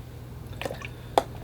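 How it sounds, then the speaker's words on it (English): Watercolor paint splashes onto paper in two soft, quick wet spatters about half a second apart, close and faint, over a low steady background hum. "Couple splashes."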